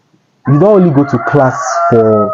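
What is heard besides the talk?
chickens clucking and crowing in background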